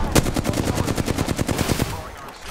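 Rapid automatic gunfire from an Apex-style battle royale video game, a steady burst of about a dozen close, loud shots over roughly two seconds before tailing off.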